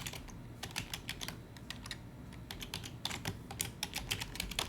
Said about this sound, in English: we can go ahead, type in their name